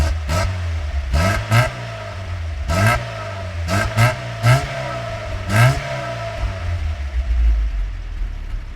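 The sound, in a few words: Lada 2103 engine revving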